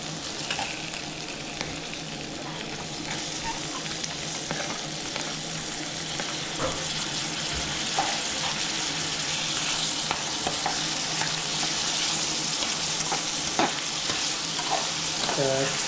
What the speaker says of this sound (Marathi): सर्व आपला कांदा, टोमॅटो आणि मिरची सगळी एकत्र करून घेणार आहोत आणि शिजवणार आहोत